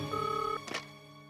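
An office telephone rings with a single loud electronic trill and a brief second burst, then the line falls quiet; no one speaks.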